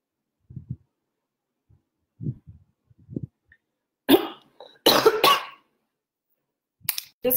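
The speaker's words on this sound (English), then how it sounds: "and then I have like a cough attack." A person coughs in a fit: a few muffled low coughs, then several loud, harsh bursts close up, separated by silence.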